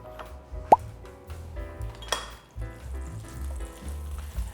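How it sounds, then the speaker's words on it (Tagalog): Butter drops into hot oil in a pan for mussel adobo, a single plop and clink followed by light sizzling and pan clatter, close by with no talk. "So you just put your oil and your butter"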